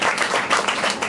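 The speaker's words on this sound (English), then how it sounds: "Give her a big round of applause." Audience at a high-rise composting talk clapping, a short close burst of many hands with uneven, lively rhythm lasting about a second.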